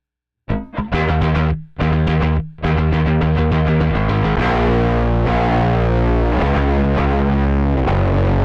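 A loud, full band performance runs through a micro synth effect, giving a thick, processed, chorus-like guitar sound with sustained distorted chords after a few choppy opening hits.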